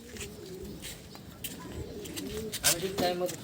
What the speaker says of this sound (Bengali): খুবই সুন্দর কোয়ালিটি পায়রা